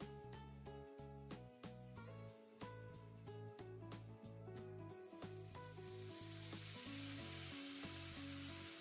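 White wine poured into a hot pan of garlic and chili flakes for amatriciana sauce, with rhythmic scraping and stirring giving way to a rising, hissing sizzle; no voices.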